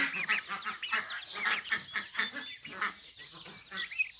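Turkeys and other poultry feed at their troughs nearby, giving repeated overlapping honking, gobbling and clucking calls in irregular bursts.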